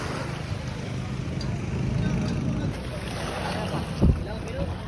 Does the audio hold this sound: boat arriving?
yes